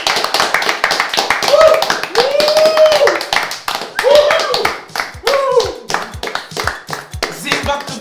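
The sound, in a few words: podcast hosts applauding themselves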